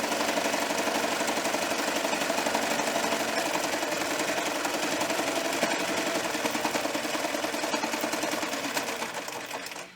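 Sewing machine stitching a fabric pumpkin pot holder, a fast, even mechanical chatter running steadily and close up for several seconds before winding down at the end, with no voices.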